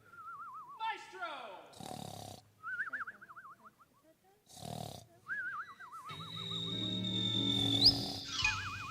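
Kazoos buzz a wavering, vibrato melody in short phrases, separated by brief bursts of other noise, before building into a sustained, buzzy, layered chord near the end.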